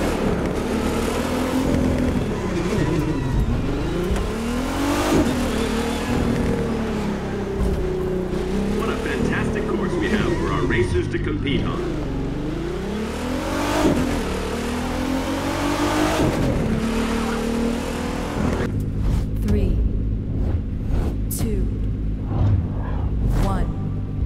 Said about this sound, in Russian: Ну, вообще-то я слышу звук моего Nissan GT-R.